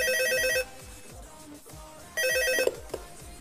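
A telephone in the Five Nights at Freddy's 3 video game rings in two loud electronic bursts separated by a pause, with low thudding background sounds underneath.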